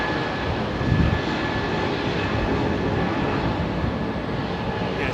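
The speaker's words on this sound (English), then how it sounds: "Airbus!" An Airbus airliner at London Heathrow Airport, a loud, steady broadband engine roar and rumble that holds throughout without clear rise or fade, no talking.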